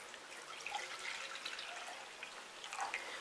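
Whole milk poured into a pot on a medium-high stove, a quiet, steady liquid trickle and splash that continues for a few seconds without any talking.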